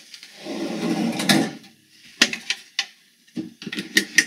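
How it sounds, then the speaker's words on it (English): Drawers under a berth on a Premier 45 sailing yacht slide open and shut: a long rumbling wooden slide, then a series of sharp clacks and knocks from the drawer fronts, close and fairly loud. "a couple of drawers here."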